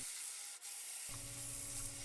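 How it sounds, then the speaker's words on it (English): Sandpaper rubs against the outside of a segmented wooden bowl spinning on a lathe, a steady close hiss that continues as the lathe motor's hum comes in partway through. "I sand the outside of the bowl, starting with 100 grit sandpaper"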